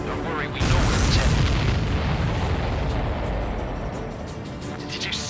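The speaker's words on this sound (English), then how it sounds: "Did you see that explosion?" A big explosion in the Ace Combat 7 flight game, a sudden deep boom that swells into a long, rumbling roar and slowly fades away.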